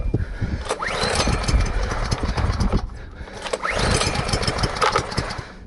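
A Simoniz 2700 psi pressure washer's small gas engine is pull-started twice, each rope yank setting off a loud sputtering, rattling burst close by, with a brief pause between the attempts.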